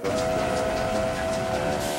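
Steam train whistle sounding as the train breaks down, a loud sustained tonal blast over rumbling rail noise, continuous and close.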